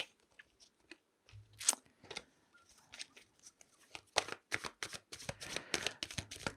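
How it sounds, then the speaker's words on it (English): Tarot cards are shuffled and handled close up in soft, crisp bursts of riffling and flicking, faint overall, with quick papery slaps clustered toward the end. "Let's pull some more cards and see where this is going."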